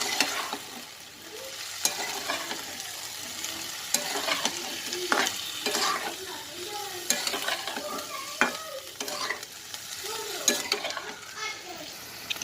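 Onion fritters (bhaji) are stirred through a hot pan, a steady sizzle of frying broken by repeated scraping strokes of a spoon against the pan, close and fairly loud throughout.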